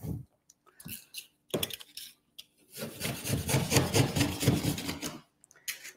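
Vinyl drywall corner bead being trimmed of excess material: a few short scraping rasps, then a longer, louder stretch of rough rubbing and cutting close by, with quiet pauses between strokes.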